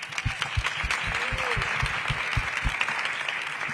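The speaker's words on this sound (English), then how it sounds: "So please join me in thanking our panel for being here." Steady audience applause for a panel of women leaders in infrastructure, with a broad wash of clapping and some low thumps, moderately loud and continuous throughout.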